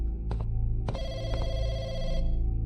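A public telephone rings in the video game Unrested, in loud electronic bell bursts: two short rings followed by a longer sustained ring, close and clear with no talking.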